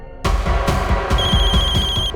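Telephone bell ringing in a Hindi crime drama scene: it starts abruptly after a quiet moment, with rapid repeated bell trills in close succession, loud and near. A bright sustained tone joins partway through.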